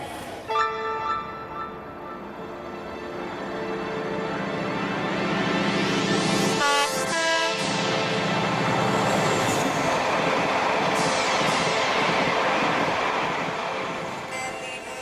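A train passes in steady rumbling motion, with a brief gap mid-way and bright squealing, whistling overtones rising and falling over the continuous clatter, fairly loud and close with no voices.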